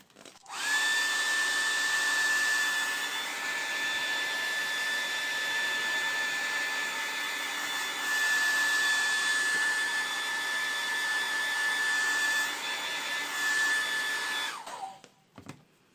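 A hair dryer blows steadily at close range to dry fresh paint on an MDF lid between coats, a loud continuous whine that runs almost unbroken from start to finish before switching off.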